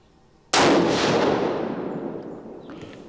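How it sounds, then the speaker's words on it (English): A Winchester Model 70 rifle firing .22-250 factory ammunition outdoors lets off a single loud, sharp shot followed by a long rolling echo that slowly fades. "The recoil is hefty in this for a 22-250."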